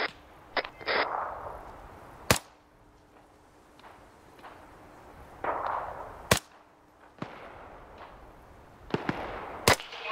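Gunfire in the video game Arma 3, a few sharp, isolated cracking shots spaced several seconds apart, loud and close, among softer shuffling and ambient game noise.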